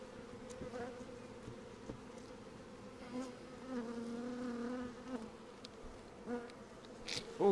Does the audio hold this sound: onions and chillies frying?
no